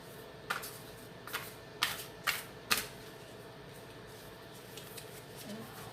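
Oracle cards are shuffled right beside the microphone: a few sharp, crisp riffling bursts in quick succession, close and prominent over a quiet room, then fading to near silence.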